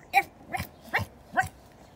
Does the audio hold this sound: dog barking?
yes